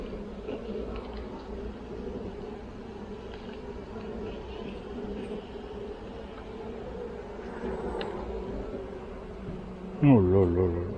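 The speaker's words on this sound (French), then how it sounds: "Beaucoup d'abeilles." Honeybees in an open hive in spring make a steady, close, dense buzzing drone throughout, with a brief voice near the end.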